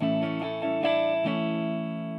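A sustained, buzzy distorted guitar barre chord, badly fretted, rings out continuously, with small scrapes and string noise as fingers shift, sounding muddy and unclean.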